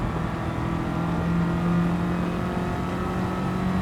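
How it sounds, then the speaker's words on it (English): A race car in Gran Turismo 7, fitted with a modified exhaust system, holds a steady droning engine note with a humming exhaust, continuous and fairly close, with no talk. "We can hear how much the exhaust system changed the sound."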